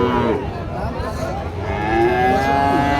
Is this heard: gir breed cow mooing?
yes